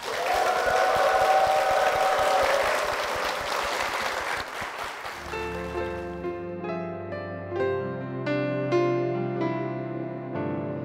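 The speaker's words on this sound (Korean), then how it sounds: "그리고 어머님의 앞날을 응원하는 마음으로 큰 박수 부탁드립니다." A church congregation in Korea applauds loudly for about five seconds, a dense wash of many hands clapping, before it gives way to gentle keyboard music with sustained melodic notes.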